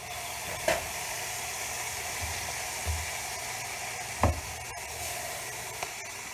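A beef roast sears in hot olive oil, a steady broadband sizzle running throughout with a few brief clanks and thumps of the pan or utensil.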